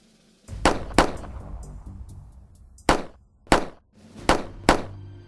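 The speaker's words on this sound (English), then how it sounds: "Shots fired. Do you know what that sounds like?" Gunshots ring out in a sudden sequence, six sharp loud reports in irregular groups, the first two close together, then three spaced cracks, each with a short echoing decay and no talk.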